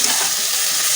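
Ridge gourd with salt and turmeric fries and is stirred in a pan for a Bengali vegetarian sukto, giving a loud, steady, close sizzle over a brief moment with no talking.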